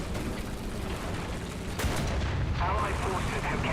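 In War Thunder, a Centurion Mk.3 tank's cannon fires once with a sharp, heavy boom partway through, and a rumbling combat din continues while someone talks over the battle.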